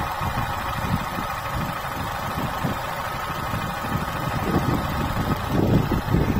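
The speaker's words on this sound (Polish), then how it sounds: "Słyszycie, jak jakby ciszej chodzi ten silnik." An Opel Astra J with the A14NET engine idles steadily, a smooth low rumble with faint rhythmic pulsing, close and continuous with no talking.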